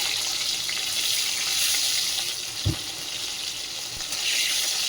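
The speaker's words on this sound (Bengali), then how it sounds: "এখন এই যে বিনস আর ফুলকপিটা ভাজছি, বেশ ভালো করে ভেজে তুলে নেবো" Cauliflower and beans frying in a pan give a continuous soft hiss of oil, with one brief low knock partway through.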